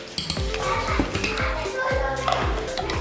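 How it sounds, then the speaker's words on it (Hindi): Rice and milk for kheer being stirred together in a pot, with a spoon scraping and knocking against the metal in a steady back-and-forth rhythm, close and moderately loud, while a voice murmurs faintly underneath. "इसको इस तरीके से आपस में मिक्स करने के दूध और चावल बिल्कुल मिक्स हो जाएं"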